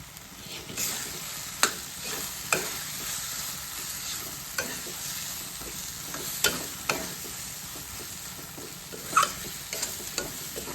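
Okra stuffed with masala being stirred into a sizzling cooked tomato gravy, a low steady fry hiss under irregular spoon scrapes and sharp clicks against the pan, close and without talk.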